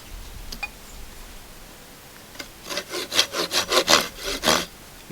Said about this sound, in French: et donc on fait à la scie l'équivalent de ce qui reste